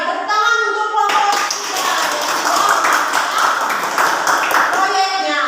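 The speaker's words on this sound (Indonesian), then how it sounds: "tepuk tangan untuk kelompok" A school class claps for a group that has just finished presenting a project, a lively burst of close handclapping filling the middle, with a voice talking just before and after.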